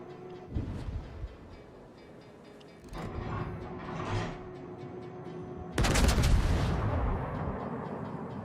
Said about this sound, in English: The Z-42! Torpedo destroyer using its main battery guns.